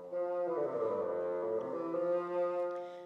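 A full bassoon plays a warm, low, reedy sustained tone with a gentle swell, rich in overtones, close and solo.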